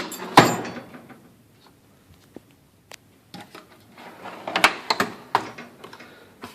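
Tool chest drawer pulled open with a sharp metallic clack, followed by scattered clicks and rattles of tools shifting and being handled inside, close by with no talking.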